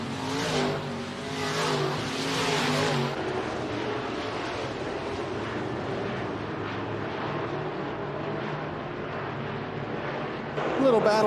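Sport mod race cars in a heat race at a dirt track raceway roar past, engines swelling loudly at first and then settling into a steady, more distant drone, with a race announcer talking over the noise.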